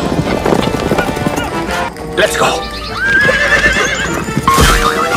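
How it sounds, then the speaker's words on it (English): A horse neighs and whinnies with hooves clip-clopping, loud and close, while a voice speaks over the sounds and a little music plays along. "This is horse."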